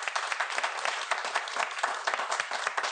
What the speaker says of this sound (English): Why do they always applaud more for the guests than they applaud for me?